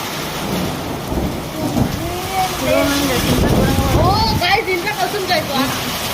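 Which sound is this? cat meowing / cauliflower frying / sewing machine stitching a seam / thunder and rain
thunder and rain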